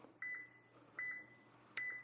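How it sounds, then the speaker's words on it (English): Three short electronic beeps from a Toyota Tacoma, evenly spaced at intervals of under a second, clear and close against a quiet background hum. "Intermittent beeps."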